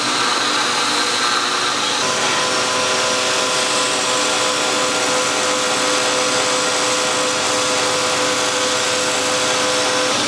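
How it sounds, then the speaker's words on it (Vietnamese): A powered grinder runs continuously while shaping the end of a wooden knife handle in a knife-making workshop, a loud steady whine with sustained high-pitched tones and a slight pitch shift partway, no talking. "sau khi mài xong thì nó sẽ tròn như vậy nha mọi người nhá"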